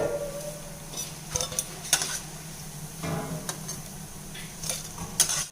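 Vada batter fries in a pan at home, with metal utensils clinking, scraping and stirring in sharp intermittent knocks over a faint steady sizzle, close up and with no talking.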